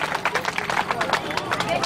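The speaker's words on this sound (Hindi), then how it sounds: "जोरदार तालियों से" A school audience claps in a burst of applause, many hands patting irregularly, with a murmur of voices underneath.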